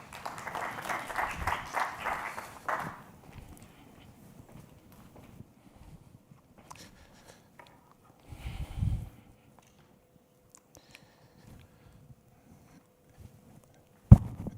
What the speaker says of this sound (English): Please, warm applause for Dr. Madveke